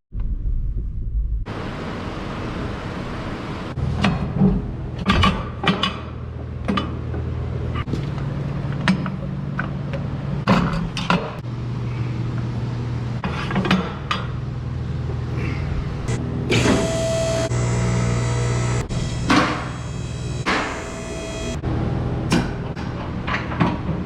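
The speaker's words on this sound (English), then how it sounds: "It sounds like swaybar endlinks to me." Worn sway bar end links on a 2011 Kia Soul produce repeated low clunks and knocks over road rumble while the car drives, with irregular thuds throughout and a brief tonal squeak near the end.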